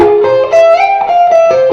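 An F melodic minor scale played on guitar, a short run of sustained single notes stepping through the scale, close and clear with no talking.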